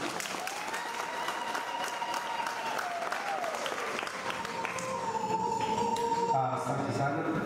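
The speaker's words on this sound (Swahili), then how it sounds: "Tumpige makofi." A crowd applauds at an outdoor community gathering in Kiambu, with sustained clapping carried under a wavering siren-like tone and a voice talking through it.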